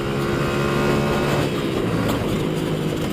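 A Masai Scrambler 125cc motorcycle engine, still being run in, accelerates gently with a loud, steady buzzing drone that shifts slightly in pitch.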